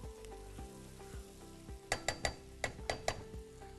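Vegetables with chili flakes sizzle in a pan while a utensil stirs them, with a soft continuous fry and a run of sharp scraping clinks near the end, close and fairly quiet, no talking.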